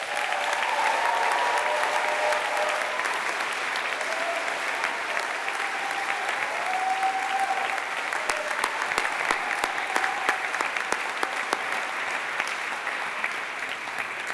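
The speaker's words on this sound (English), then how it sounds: "give them one more round of applause" A convocation audience applauds steadily for about fourteen seconds, a dense wash of many hands clapping at an even level with a few crisper claps standing out and faint crowd murmur underneath.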